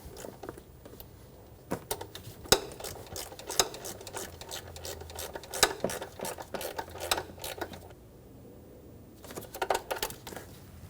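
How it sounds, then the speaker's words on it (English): A ratchet clicks in quick bursts while snugging down the bolt on a coolant temperature sensor of a 2005-2015 Toyota Tacoma 2.7L four-cylinder, close and crisp, with brief pauses between the runs of clicks. "Snug the bolt down."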